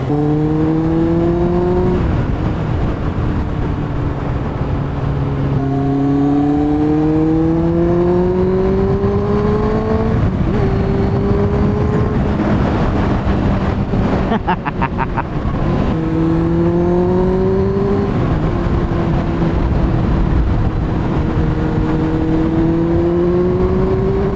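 A Kawasaki Ninja ZX6R high-mileage motorcycle is ridden, with its engine revving loudly and close through repeated rising gear pulls and brief shift dips, under steady wind noise and without speech.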